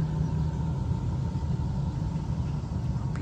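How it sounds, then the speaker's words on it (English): A low, steady diesel engine rumble idling nearby at Château de la Motte-Husson, constant and unbroken throughout. "Excuse that noise, it's the diesel here."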